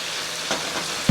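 An Angus beef burger patty sizzles steadily and close in a hot pan just after being flipped, with a soft thud right at the end.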